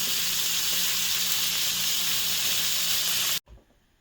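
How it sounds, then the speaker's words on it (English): Loud, steady sizzling hiss of bacon frying in a pan, close up, cutting off abruptly near the end. "So we're going to let these sizzle, probably a couple minutes on each side"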